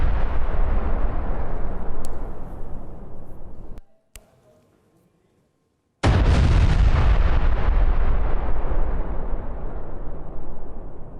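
Spike anti-tank missiles strike military positions, producing loud, booming blasts and a rumbling roar that cut to near silence for a moment, then return as another heavy, sustained blast that slowly fades.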